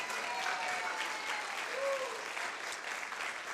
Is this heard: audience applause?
yes